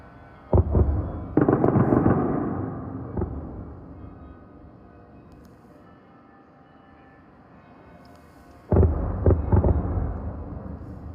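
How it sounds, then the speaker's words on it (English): Several deep, booming blasts from a drone attack in Ukraine rumble in from far away, two clusters separated by a long stretch of quiet low ambience. "we can hear lots of explosions in the distance"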